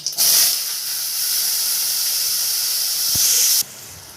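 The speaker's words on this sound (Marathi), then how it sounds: "आता कांदा टोमॅटो छान भाजलाय" Chopped onion and tomato with mustard seeds sizzle in a spoonful of hot oil in a pan for a Marathi-style guar bean dish, giving a loud, steady hiss that runs almost unbroken for about three and a half seconds before it suddenly drops away.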